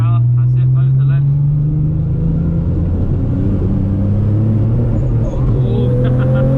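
Nissan GTR engine droning loud and close from inside the car as it drifts, a steady tone slowly rising in pitch under the throttle, while an instructor talks over it.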